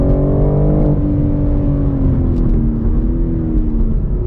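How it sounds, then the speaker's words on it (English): A 2021 BMW M3 Competition engine revs hard on a race track, a loud, steady drone whose pitch climbs and dips slightly through the gears, with no one talking. "that's a track test on the BMW M3 competition"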